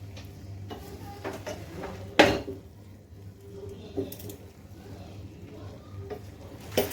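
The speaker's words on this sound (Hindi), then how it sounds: "ये जो राइस मैंने बॉयल किए हैं ये मैं ऐड करूँगी। को मिक्स करूँगी मैं अच्छी तरह से।" Metal spoon clinks and scrapes in a pan as boiled rice is tipped in and stirred with chicken and vegetables; scattered knocks and one sharp clatter over quiet kitchen background.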